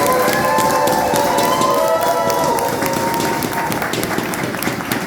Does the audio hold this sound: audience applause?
yes